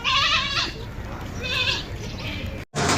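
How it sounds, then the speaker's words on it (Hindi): Teddy crossbreed goat, a female that has kidded once, at about sixteen months with two teeth, bleating loudly at a livestock market in Shah Faisal Colony, two long harmonic bleats close by, over steady crowd and market background noise. "ये टेडी दोगली बकरी है"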